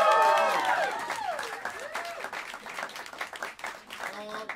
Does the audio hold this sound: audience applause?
yes